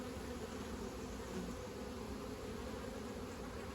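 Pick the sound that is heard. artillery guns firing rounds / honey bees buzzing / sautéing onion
honey bees buzzing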